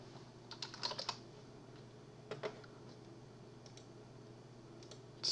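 Light typing and mouse clicks on a computer keyboard while entering initials for a website logo, a few short clustered bursts of key taps spaced out over quiet room tone, close and soft, with no talking.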